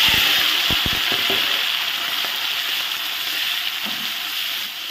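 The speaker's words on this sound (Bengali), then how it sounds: "আমি এখন মাছ দিয়ে দিলাম, তেল গরম হয়ে গেছে" Fish hitting hot oil in a pan gives a steady, bright, close sizzle that hisses on throughout, with a few sharp clicks near the start.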